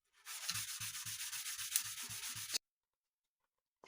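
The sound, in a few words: sanding by hand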